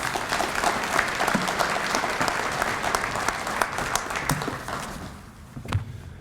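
Steady applause from an audience at a 2022 athletic hall of fame induction ceremony, filling the room with dense clapping before tapering off near the end.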